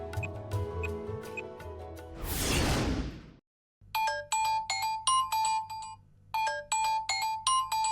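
A phone rings in a Tamil TV serial scene, first muffled music and a whoosh, then a short gap before a bright repeating electronic ringtone plays in clipped bursts, loud and close, with no talk over it.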